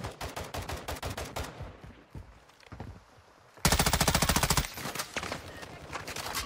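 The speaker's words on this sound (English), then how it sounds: "Somebody shot like close up." Close-range automatic gunfire in the video game Warzone 2.0, loud rapid bursts of shots with a dense sustained volley midway, busy game sounds between.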